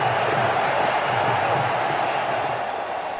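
Crowd cheering and roaring steadily at a women's T20 cricket match, a dense continuous wash of many voices that stays loud throughout and eases slightly toward the end.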